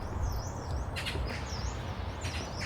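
Faint, high birdsong chirps and trills a few times over a steady low outdoor rumble along a wooden deck path through a forest in Seoul.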